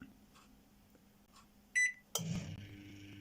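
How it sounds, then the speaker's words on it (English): A microwave oven switched on and heating, set to 70 Celsius, with a sharp beep followed by a steady mechanical hum and whir that carries on at moderate level, with no talk. "Right, the oven's heating up."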